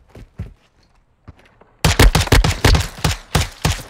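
Video game gunfire from Call of Duty Modern Warfare 2: a few scattered shots, then a loud rapid burst of about a dozen close shots in quick succession.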